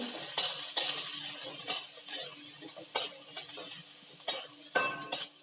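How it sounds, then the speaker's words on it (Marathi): Peanuts roast dry in a pan for upma, stirred with a utensil that gives repeated crisp clinks and scrapes at an uneven pace over a soft sizzle, close and fairly quiet, with no voices. "शेंगदाणे परतून घेऊ"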